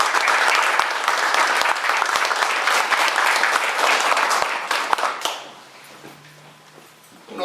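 A large assembly crowd at a nationalist gathering in La Plata applauds loudly and steadily for about five seconds, with a few sharper claps standing out, before the ovation cuts off to a quiet room.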